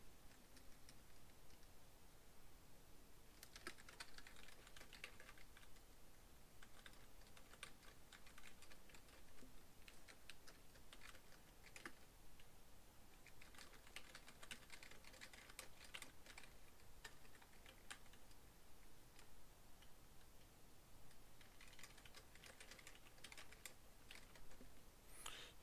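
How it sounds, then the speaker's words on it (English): Typing on a computer keyboard runs through the whole stretch, soft, rapid key clicks in uneven bursts with brief pauses, faint and close, with no talking. "I'm going to type this in."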